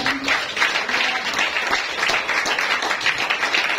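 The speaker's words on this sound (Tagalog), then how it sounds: "Palakpakan natin siya." A church congregation applauds together during preaching, dense sustained clapping from many hands filling the room, with some voices mixed faintly beneath.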